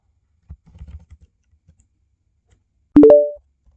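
A handful of soft computer keyboard keystrokes tap out a short command in a quick cluster, followed after a pause by a brief tonal beep, quiet and close in an otherwise silent room.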